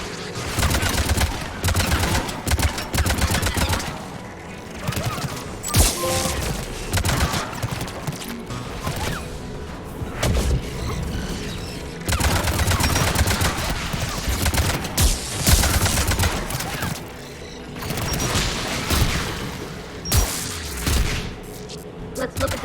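Anti-aircraft guns defending a tower in the video game Mass Effect 3 fire in loud, sustained bursts of gunfire over a dense battle mix, with some voices talking beneath.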